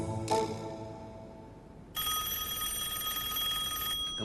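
A telephone bell rings out in a room, with one short ring early and then a sustained bright electronic ringing from about two seconds on, fairly faint but steady and clear, with no voices.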